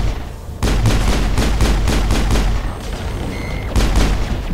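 Gunfire erupts in the video game Mass Effect: rapid loud bursts of automatic shots rattle on for a few seconds, pause briefly, then a final volley cracks out.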